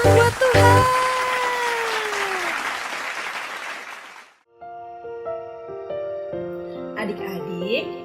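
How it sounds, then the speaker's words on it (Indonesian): Clapping during an online children's Sunday school worship service fills the first four seconds, dense and steady beneath a voice, then stops as soft keyboard music takes over. "Berikan tepuk tangan buat Tuhan."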